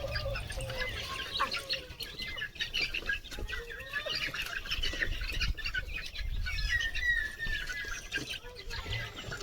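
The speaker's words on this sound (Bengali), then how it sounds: "এবার মুরগিদের খেতে দেবো।" Village chickens cluck in a busy, overlapping chorus as they are fed, with scattered chirps from other birds and some low thumps and rustling close by.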